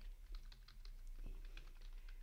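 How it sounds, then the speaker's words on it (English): Rapid clicking of computer keyboard keys while code is typed, a steady run of close, crisp keystrokes with no talk. "I will create a new method by typing public function"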